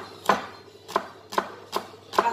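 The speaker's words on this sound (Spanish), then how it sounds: "Así vamos a ir picando toda nuestra verdura, ¿vale? En cuadritos chiquitos." A knife dices vegetables into small cubes on a cutting board, with five crisp, evenly spaced chops heard close up in a quiet kitchen.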